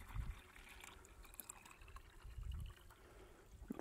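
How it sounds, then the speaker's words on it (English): Cooled water, after heating, is poured into a container outdoors, giving a faint, low trickling and splashing with soft gurgles, quiet and close against a light background hiss. "I'll go pour it into this container."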